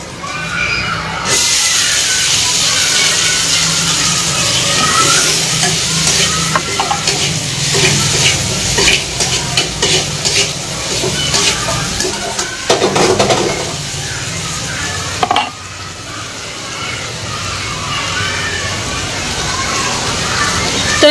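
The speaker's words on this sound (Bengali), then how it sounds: "তো আমি করলা ভাজলে অনেকটা পরিমাণে তেল দিয়ে ভাজি" Bitter gourd fries in a generous amount of oil, a loud continuous sizzle with clattering pan and utensil noise, close, with a short pause partway through.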